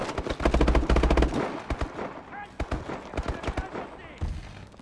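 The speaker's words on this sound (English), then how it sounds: "That was a hairball gunfight." Gunfire in Call of Duty Advanced Warfare during a veteran-difficulty mission: rapid automatic bursts up front, then scattered sharp single shots and short volleys, with some player speech mixed in.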